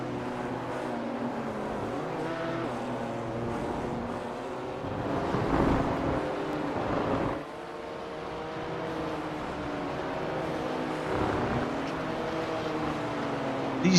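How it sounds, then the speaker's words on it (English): BMW M2 race cars in a sim racing game at Winton, engines droning with a steady harmonic whine. The whine swells louder as cars close in around the middle of the clip and again near the end, with no talk over it. "M2 BMWs, they are not as powerful as those supercars we saw on Thursday."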